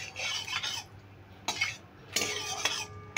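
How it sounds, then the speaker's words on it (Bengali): Mustard oil is spread around a hot wok with a utensil, giving a few scraping, rubbing strokes of metal on metal, close and fairly quiet, with brief pauses and no talking. "তেলটা গরম হয়ে গেছে, তেলটা এবার আমি কড়াইতে একটু ছড়িয়ে নিচ্ছি।"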